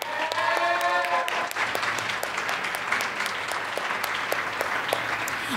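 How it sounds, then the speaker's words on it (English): An open mic audience gives a speaker a round of applause, dense and steady clapping throughout, with a voice briefly audible at the start. "Another round of applause for Mr."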